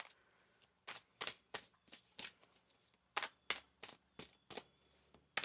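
Crisp riffling bursts of tarot cards being shuffled, a quick run of soft slaps and flutters repeating in uneven groups, close by with no talking.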